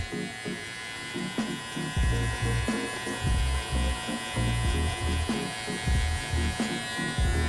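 Electric hair clippers buzz steadily through a mid taper fade haircut, a close, continuous motor drone with a low hum that swells and dips as the blade moves through the hair.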